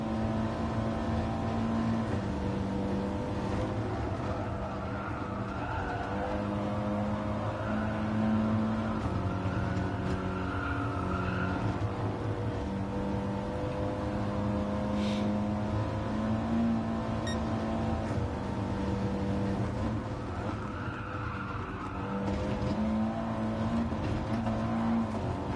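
Race car engine in GT Sport droning steadily through a daily online race, sustained tonal whine rising and falling with gear changes and throttle, loud and continuous without talk.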